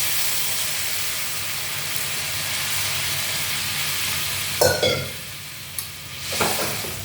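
Lukewarm water poured into a pot of simmering eggplant curry, a steady hiss and sizzle throughout with a few sharper splashy bursts toward the end, close and fairly loud, no voices.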